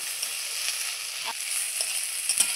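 Spring onion stalks fry in a pan with a steady, soft sizzle, broken by a few faint scrapes of stirring.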